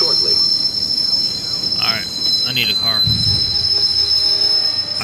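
A train in Watch Dogs rumbles in with high, piercing wheel squeals over the steady clatter of the rails. A few brief voice sounds come through.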